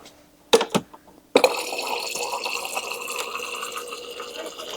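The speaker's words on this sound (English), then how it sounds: "I'm gonna go ahead and fill it all the way up with water" Water pours into a pitcher of strawberry lemon mocktail after a few clinks and drips, then a steady splashing fill that runs continuously, close and moderately loud, with no talking.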